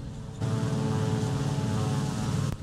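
A propeller aircraft engine in the video game War Thunder roars in a dense, continuous buzzing drone, kicking in suddenly after a brief quieter moment and holding steady before a brief dip near the end.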